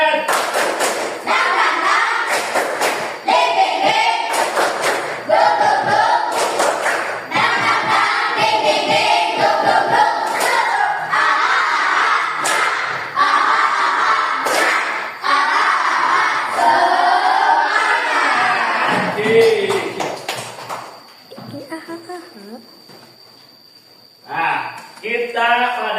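Schoolchildren at an elementary school perform a rhythmic spirit clapping cheer, loud sharp claps in a patterned beat mixed with shouted chanting voices, ending in quieter talk.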